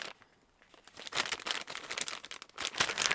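A plastic Happy Meal toy bag crinkles and rustles close up in irregular bursts, quiet at first and then louder and more continuous.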